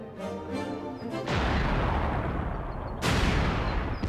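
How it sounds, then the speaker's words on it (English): Booming artillery fire, loud close blasts that set off long rumbling roars, one near the start and a second around three seconds in, with no voices. "We heard the booming of the artillery."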